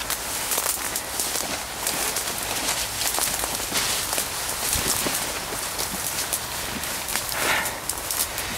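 Steady rain falls outdoors near an urban exploration site in Radomsko, a dense broadband hiss with scattered drop impacts and occasional close patters, continuous and fairly loud throughout with no voices.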